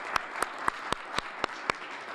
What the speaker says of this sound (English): I just want to give a round of applause